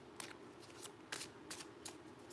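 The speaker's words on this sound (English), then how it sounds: "let me shuffle again" Tarot cards are shuffled by hand in several quick, soft riffling bursts, close and quiet with no talk.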